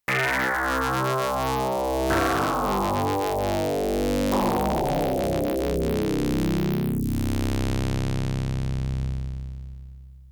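A harsh, buzzy square-wave FM synthesizer tone from a Kodamo Essence FM, with dense overtones, sweeps downward in repeated steps, then holds and fades out.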